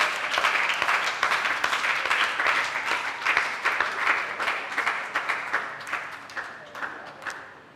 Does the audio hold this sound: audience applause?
yes